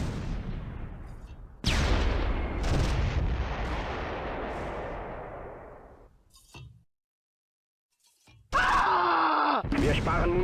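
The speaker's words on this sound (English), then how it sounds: "The shot came from the Panzer IV, firing from a hull-down position behind the ridge." Panzer IV tank gun firing from a hull-down position behind a ridge in the WWII strategy game Close Combat 3, Russian Front: loud booming blasts with long rumbling decay, a short silence, then another sharp loud report.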